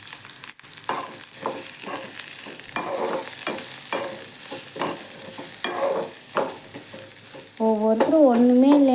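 Onions and curry leaves fry in hot oil for a mushroom gravy, giving a loud, close sizzle broken by repeated stirring scrapes, and a rising hiss swells near the end.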